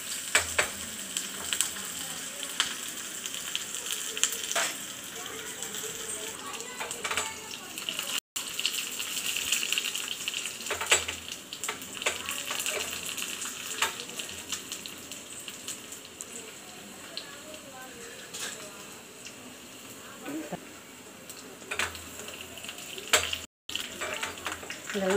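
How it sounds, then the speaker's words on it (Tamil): Onions frying in a pan after mustard seeds splutter, a steady close sizzle and crackle with occasional stirring scrapes throughout, under quiet speech. "கடுகு பொரிஞ்சதும் வெங்காயம் வெங்காயத்தை போட்டு நல்லா கொஞ்சம் லைட்டாக"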